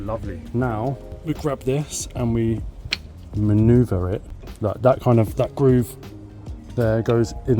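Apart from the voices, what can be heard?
None of the usual background noises is heard.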